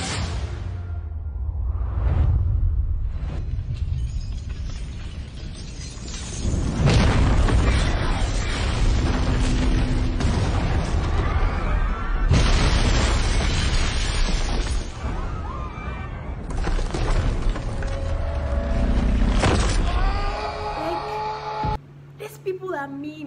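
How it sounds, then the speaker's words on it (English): An explosion from the Money Heist series (season 5, episode 4) bursts with loud booms, whooshes and rumbling blasts across a long, dense stretch of dramatic sound, with voices talking through parts of it. "Episode 4 starts off with an explosion"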